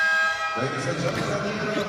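A loud, sustained electronic buzzer sounds at the end of the first half of a PBA Philippine Cup basketball game between Converge and Magnolia, starting just after a brief quiet moment and ringing out under a commentator's talk and arena noise.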